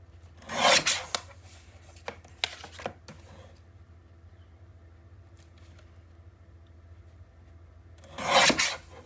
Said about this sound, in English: it looks like I need to trim this one down just a little bit